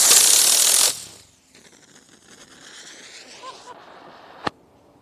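A homemade model rocket, built to fly like a helicopter, ignites on the launch pad with a loud hissing roar lasting about a second. A fainter whirring whine follows as it fades, ending in one sharp click.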